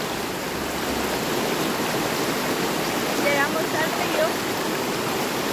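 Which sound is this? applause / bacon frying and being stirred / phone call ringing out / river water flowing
river water flowing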